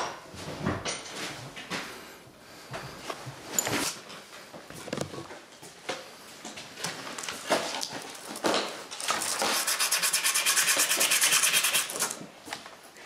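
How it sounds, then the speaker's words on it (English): A metal key rubbed on sandpaper during a Kubota BX snowblower gearbox repair, heard as close, uneven scraping strokes building to a sustained rapid rasping burst near the end. "I'm just cleaning this up on some sandpaper so it fits in there a little easier."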